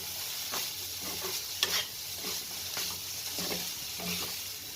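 Cooked rice being stirred and mixed in a pan for a vegetarian raw-mango pulao, giving soft repeated scraping strokes over a faint steady sizzle, with one sharper clink midway.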